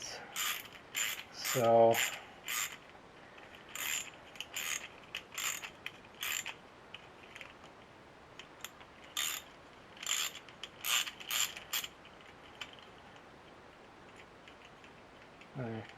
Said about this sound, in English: I've decided to do some busy work and chase a bunch of threads